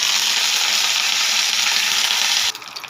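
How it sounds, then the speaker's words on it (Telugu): Cumin, chana dal, urad dal, garlic, dried red chillies and curry leaves sizzle loudly in hot oil for palli chutney tempering, a dense, steady crackle that cuts off abruptly near the end, leaving quiet. "చట్నీ పోపు వేసుకుంటాము."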